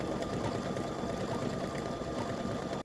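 An embroidery machine stitches a baseball bats design for a patriotic in-the-hoop mug rug, running in a steady, continuous mechanical whir close by, then stopping abruptly near the end.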